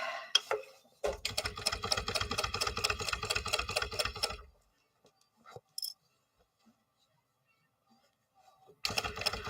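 A sewing machine stitches around a curve in a rapid, even run of close mechanical clatter for about three seconds. A few faint clicks follow a quiet pause, then the stitching starts again.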